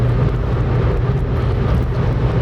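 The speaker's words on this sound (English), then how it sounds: "It is quite windy outside today as well, so there's some extra wind noise coming in." Steady wind and road roar inside a 2000 Honda Civic Si EM1 (Canadian-spec SiR) cruising on the highway on a windy day, a constant broadband rumble with strong low-end drone and no speech.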